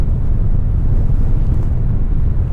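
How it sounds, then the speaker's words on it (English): Wind effect from the Fortitude video game, a steady low rumbling whoosh that holds at an even, loud level throughout with no talk over it. "that's the new wind sound effect"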